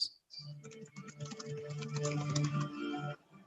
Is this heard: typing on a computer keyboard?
yes